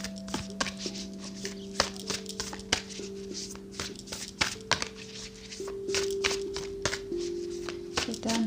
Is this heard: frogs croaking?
no